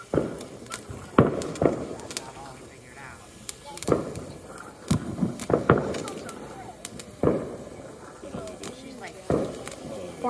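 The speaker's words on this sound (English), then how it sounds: "Boring fireworks right here." Backyard Fourth of July fireworks crack and pop in an irregular series of sharp bangs, some near and some farther off, while people talk and react over them.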